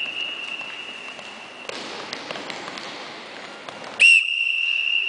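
A referee's whistle shrills during an indoor futsal drill, one long steady blast at the start and a second sharp loud blast near the end, over gym ambience with faint ball taps and thuds.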